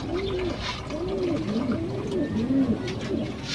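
Pigeons coo in a steady series of soft, rolling calls, several overlapping phrases repeating close by with no talking, in a loft where racing pigeons are being paired.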